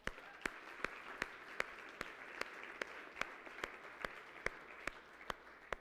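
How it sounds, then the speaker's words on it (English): Faint, evenly spaced claps repeat in a brisk steady beat as an audience gives a round of applause, heard at a distance with no speech. "let's give these guys a round of applause"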